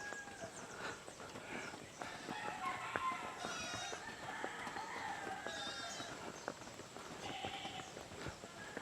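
A horse named Alka at a nature campsite in Magdalena, Laguna, its hooves clip-clopping steadily and an occasional whinny heard amid roosters crowing and outdoor ambience, all at moderate distance.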